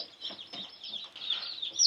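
A flock of chickens including a small bantam cluck in quick, overlapping high calls nearby, rising slightly toward the end, with no voices over them.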